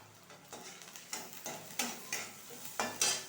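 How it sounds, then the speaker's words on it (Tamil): Onions fry in a pan for mango rice, giving a soft sizzle broken by repeated stirring scrapes about every half second, close and fairly quiet, with no voices. "இது நல்லா வதங்கட்டும் பாருங்கள் ஆனியன் வந்து நல்லா"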